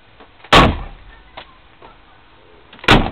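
Two solid door slams from a 1959 Chevrolet station wagon, sharp and close, the first near the start and the second near the end, with quiet handling noises in between.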